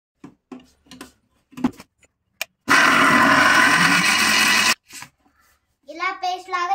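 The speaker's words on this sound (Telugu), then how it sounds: "ఇలా తీసుకున్న తర్వాత మిక్సీ పట్టుకుందాం." A kitchen mixer grinder whirs loudly for about two seconds while grinding fish curry paste, with a person talking before and after.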